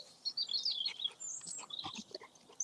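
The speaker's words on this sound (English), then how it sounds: "we've got long-tailed tits in the door" Long-tailed tits give thin, high chirps and twittering calls close by, in quick overlapping bursts with brief gaps over a quiet background.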